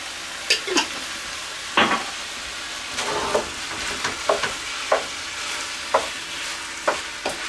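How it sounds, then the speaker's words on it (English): Venison empanada filling with salad olives and pimentos being stirred in a pan, a soft sizzle under scattered scraping and tapping of a spoon, close and steady with no talk. "you could add your drained salad olives with the pimentos and mix"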